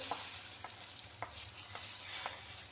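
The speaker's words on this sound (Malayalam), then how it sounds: "അപ്പോൾ ഈ കടു വറുത്തത് അങ്ങോട്ട് ഒഴിച്ചു കൊടുത്തിട്ട്" Fried mustard seed tempering with chilli and curry leaves poured into chicken curry, a soft continuous sizzle with a few light stirring taps at regular intervals, fairly quiet and close.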